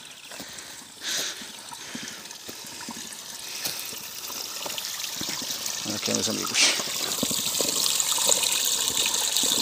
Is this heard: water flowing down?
yes